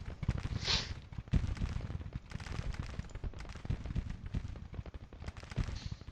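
Artillery guns fire in the Civil War strategy game Grand Tactician, a steady rumble of distant booms and crackling volleys rolling continuously at moderate loudness with no voices.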